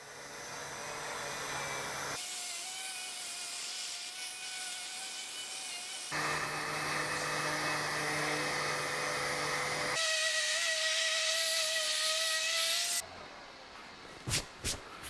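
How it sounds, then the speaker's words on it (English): Orbital sander with 220-grit paper smoothing the joints where coffered ceiling beams intersect: a steady, close whirring drone that shifts in pitch and loudness between passes, then stops, leaving a few light knocks. "I'm just sanding where these joints right here intersect for these two beams, and just using 220 on an orbital sander"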